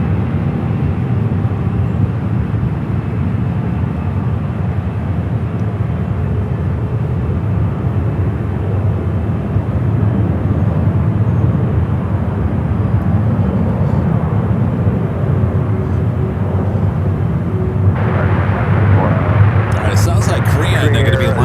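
An EVA Air heavy jet on flight 007 departs SFO with a loud, sustained low engine roar that rumbles steadily throughout, while radio chatter sounds under it.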